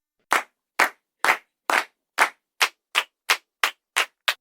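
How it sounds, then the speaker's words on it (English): A deliberate slow clap from the basketball film Hoosiers: eleven sharp, isolated claps, evenly spaced and gradually quickening slightly, loud and close with silence between each. "I think that's a slow clap."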